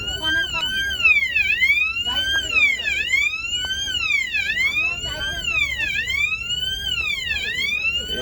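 An alarm sounds aboard a Vande Bharat sleeper train, a loud repeating electronic wail that sweeps up and down in regular cycles roughly every second and a half, steady throughout with faint background chatter beneath.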